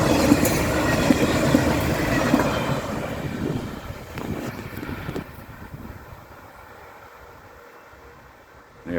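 An Australian Doodlebug passenger railcar rolls through Baxter station in Victoria, its wheels rumbling and clattering loudly up close, then fading as it moves away and leaves a quiet background.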